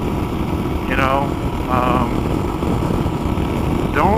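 A Kawasaki KLR motorcycle idles with a steady, fairly loud engine rumble, while brief voice-like sweeps rise above it a few times.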